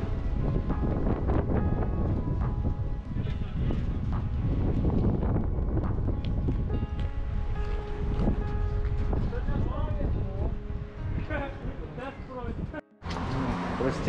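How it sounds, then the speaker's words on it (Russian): Strong, gusty wind roars continuously across the microphone during a gravel bike ride, gusts strong enough to threaten a bus shelter and blowing dust. The buffeting is loud and close, with some talk mixed in. "Ветер капец сегодня. просто жесть."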